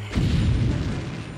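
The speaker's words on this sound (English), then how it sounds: "Brad saves her with a firecracker." A firecracker goes off in a scene from the movie Critters: one loud, close boom with a deep low rumble that holds steady and slowly fades over about a second, with no talk.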